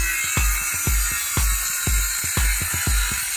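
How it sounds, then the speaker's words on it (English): A hammer drill drives screws into the wooden frame of a chicken coop run, giving a quick series of sharp, close knocks and short bursts in an uneven rhythm over a steady background hum. "We do have a hammer drill."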